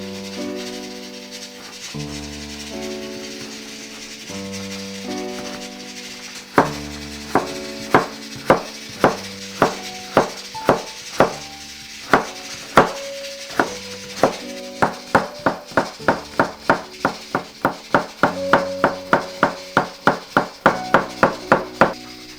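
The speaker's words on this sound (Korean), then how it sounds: "그래서 무도 조금만 썰어서" A knife chops radish on a cutting board in a home kitchen: a string of crisp, close chops that starts sparse and speeds into a quick, steady rhythm over soft background music.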